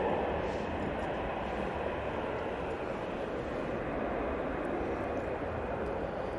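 An easyJet jet rolls for takeoff at Manchester Airport, heard as a constant, fairly distant engine roar with a broad rushing texture that stays even throughout, with no talk over it.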